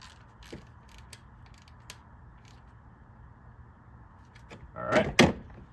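On a Toyota Corolla, a ratchet snugs down a bolt during a spark plug change. A few faint clicks are followed by a louder burst of quick ratcheting clicks near the end, close by in a quiet space.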